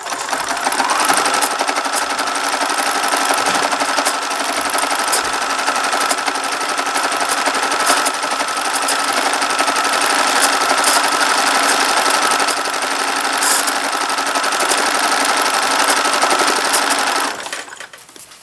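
A sewing machine quilts three fabric layers of a baby quilt wing, fed by a fabric mover, running as a steady, loud, continuous rapid stitching whir for about seventeen seconds before stopping abruptly.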